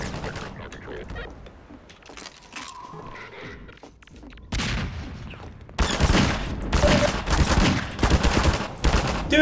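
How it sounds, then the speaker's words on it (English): A magnum revolver fires in Half-Life 2, with loud, sharp gunshots bursting in the second half among other combat noise, after a quieter opening passage; no talking. "firing a friggin' magnum from. Well, it isn't point blank range exactly, but pretty damn close though."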